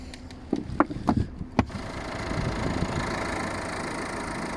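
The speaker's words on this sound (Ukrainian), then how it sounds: "Двигун працює е, супер, абсолютно ніяких провалів, ніяких зайвих шумів." A few knocks and clatters, then a 2019 Peugeot 308 1.5 diesel engine starts and settles into a steady, low idle rumble.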